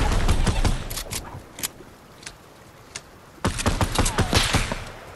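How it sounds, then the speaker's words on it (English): Snowball launcher fire in Fortnite, sharp repeated impacts in rapid bursts at the start and end, with a few scattered single hits in the quieter middle. "I'm getting freaking sprayed by the snowball launcher"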